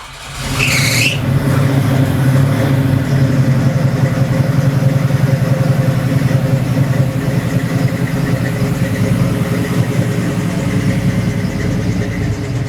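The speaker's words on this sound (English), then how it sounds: "It's not turning over right. It's too slow." A Chevrolet Camaro Z/28 engine turning over sluggishly gives a loud, close, steady chugging drone that runs unbroken after a brief squeal at the start.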